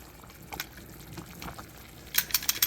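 Potatoes cut into pieces simmering in a pot for zuppa toscana, a soft low bubbling with scattered small pops, ending in a few sharper splashy bursts close by.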